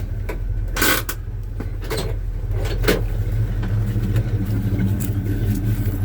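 A 1984 Chevy C10 pickup truck idles after a cold start, giving a steady low rumble that runs the whole time, with a few brief knocks and rustles nearby.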